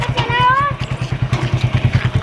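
Motorcycle engine running close by with a steady pulsing rhythm as the bike moves off, a family climbing on, with a high whine or voice briefly over it early on.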